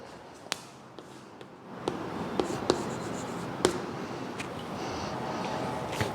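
A pen scratches across paper while writing out the final statement of a math solution, faint steady scribbling punctuated by a few sharp taps, recorded close and quiet.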